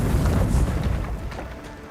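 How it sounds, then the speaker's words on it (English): A grenade blows up in the video game Avowed, a deep booming blast with a rumbling tail that slowly fades over two seconds. "Regular grenade."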